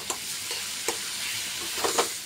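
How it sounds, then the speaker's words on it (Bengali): Ginger, garlic and onion paste masala sautéing in a pan makes a dense, even sizzle with a few soft scraping stirs, close and continuous, no voices. "আদা, রসুন, পেঁয়াজ বাটা দিয়ে কষিয়ে নেব।"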